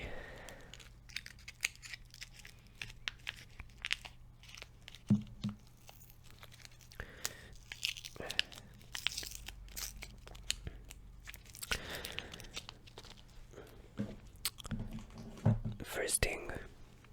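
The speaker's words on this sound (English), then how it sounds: "I think we're gonna do some gum chewing as well" Gum chewed close to the mic with soft, irregular wet crunches and smacks, while someone talks quietly in a near-whisper throughout.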